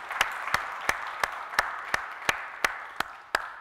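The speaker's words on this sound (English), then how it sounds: "I think that deserves a round of applause there." A church congregation gives a round of applause: a soft wash of many hands clapping, punctuated by regular sharp claps roughly three times a second, fairly close and without speech.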